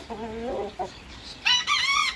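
Bantam chickens and young chicks clucking close by, a few drawn-out low clucks followed by a burst of higher, excited calls, fairly quiet overall.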